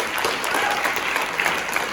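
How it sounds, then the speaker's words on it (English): Steady audience applause at a mayoral candidate forum, dense and continuous clapping from many hands throughout, fairly close and loud with no voices standing out. "So please give them another round of applause"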